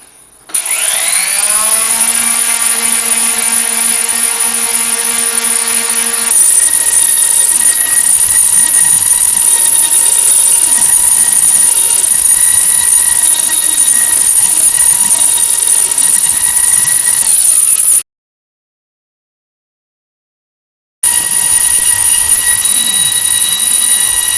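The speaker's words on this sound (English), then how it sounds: "Here's some 60 grit on a Ryobi sander." A Ryobi power sander with 60 grit sandpaper runs loud and close on an old metal keg, starting with a rising motor whine that settles into a steady, abrasive drone, cuts out briefly near the end, then starts again.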